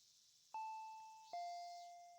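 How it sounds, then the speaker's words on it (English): Video game doorbell sound effect from Higurashi When They Cry: two clear, bright chimes about a second apart, each ringing out and decaying slowly against near silence. "I heard the doorbell ringing."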